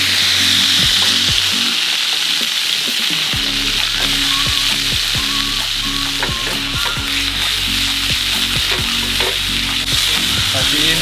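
Wagyu steak sizzles loudly in a small frying pan, a steady close hiss of hot fat with sharp crackles and pops scattered throughout, without talking.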